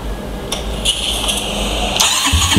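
A Suzuki Thunder 125 custom chopper motorcycle engine cranks with a couple of sharp, close starter bursts before the motor catches into a low rumble near the end.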